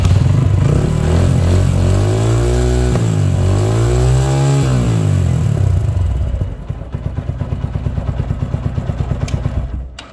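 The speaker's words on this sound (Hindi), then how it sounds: "फिर से मैं इसको अब प्लग लगाने के बाद स्टार्ट करता हूँ।" Motorcycle engine fitted with a lithium LiFePO4 battery starts up and revs, rising and falling loudly close by, then settles into a steady, rapid idle putter.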